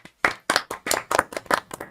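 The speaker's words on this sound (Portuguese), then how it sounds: "Ricardinho, só uma salva de palmas." A single person clapping in a Brazilian podcast studio: about eight crisp, close claps in a quick, slightly uneven rhythm with brief gaps between them.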